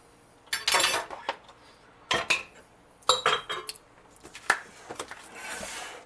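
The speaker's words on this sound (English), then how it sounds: "get our loaf pans out, and we're going to divide this up" Metal loaf pans clank and clatter against each other in several short, sharp bursts, close by, with brief quiet gaps between.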